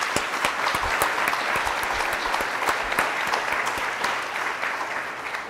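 Audience applauding at a social media for social good welcome event: a steady wash of many hands clapping, sustained and fairly loud for the whole stretch, with sharper individual claps standing out.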